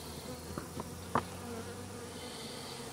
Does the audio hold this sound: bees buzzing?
yes